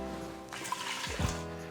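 Water poured from a cup into an Instant Pot holding about a cup of rice, a short liquid splash and trickle at moderate level with no talk.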